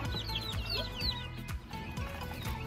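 Karinkozhi, a black native chicken breed, kept in a coop on a poultry farm, cluck and chirp steadily and close by, with overlapping calls and faint bird chatter. Nobody speaks.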